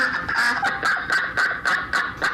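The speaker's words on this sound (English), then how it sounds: "the sounds of those deranged ducks tell us that once again it's time for Let's Talk About" Ducks give a run of loud, raucous honks used as a sound effect, about a dozen rapid repeated calls in an even rhythm, close and alone without any voices.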